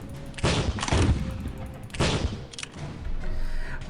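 Gunfire and explosions in the Civil War video game Gods and Generals, with two heavy, booming volleys about a second and a half apart, rolling into a continuous battle rumble.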